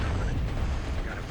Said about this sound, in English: But yeah, it's artillery